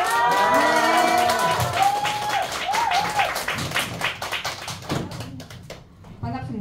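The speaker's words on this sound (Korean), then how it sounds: "박수 주세요." An audience at a Korean lecture or talk applauds loudly and densely, then the clapping thins into scattered claps and fades. A voice talks over the start of it.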